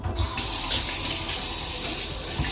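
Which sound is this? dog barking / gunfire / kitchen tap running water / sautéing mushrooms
kitchen tap running water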